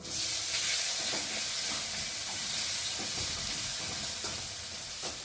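Chopped onion hits hot oil with toasted whole cumin in a pan for a pointed gourd and egg curry, giving a steady, close sizzle with faint stirring scrapes and no voices.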